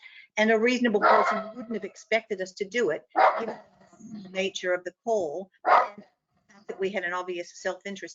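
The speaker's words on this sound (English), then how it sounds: "Please excuse the dog barking in the background." A dog barks intermittently in the background while a person talks continuously in the foreground, the barks partly buried under the speech.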